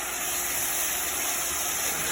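Steam hisses steadily off a hot cast iron pan, a broad, even rushing noise that stays loud and unbroken for the whole moment, with no voices.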